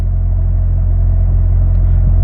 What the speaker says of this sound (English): And right now you can hear the engine.